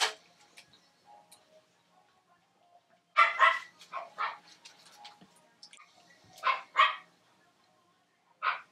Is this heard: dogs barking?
yes